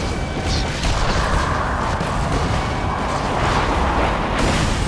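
Grenades explode in Borderlands 2 during co-op play, making a dense, continuous rumble of booms and crashes that stays loud and close without a break.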